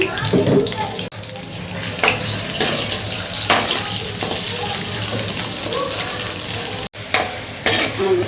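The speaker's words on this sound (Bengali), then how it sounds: "এবার আর একটু আলুটা ভেজে নিই আলুটা ভেজে তুলে রাখি" Potato pieces frying in a pan give off a loud, continuous sizzle, broken by repeated scraping and clattering stirring strokes and a couple of sharp knocks.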